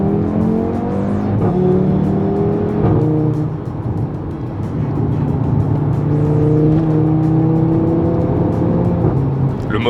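An Audi RS3 with 367 horsepower and 480 Nm of torque accelerates hard, its loud engine tone climbing in pitch through successive gears with brief dips between shifts, sustained and close with no talking.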